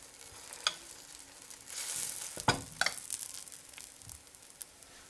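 Roti sizzles softly in oil on a griddle pan, a faint steady frying hiss broken by a few light scrapes and taps.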